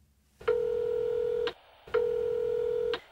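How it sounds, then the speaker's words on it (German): Two identical steady electronic telephone tones, each about a second long with a short gap between, play clearly and alone like an answering machine signal before a recorded message. "Sie hören eine Ansage auf Ihrem Anrufbeantworter."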